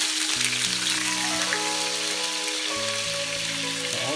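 Shredded pork sizzling in oil in a wok, a steady crackling hiss throughout, with background music playing over the frying.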